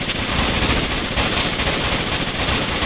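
Dense, sustained automatic gunfire from a squad in the military shooter game Project Reality, a continuous loud crackle of overlapping rifle and machine-gun bursts filling the whole stretch without pause.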